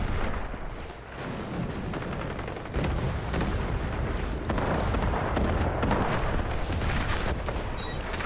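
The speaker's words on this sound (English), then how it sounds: "Roger that. Artillery barrage incoming." An artillery barrage in the video game Delta Force pounds continuously with heavy booms and rapid bursts of gunfire, loud and layered throughout.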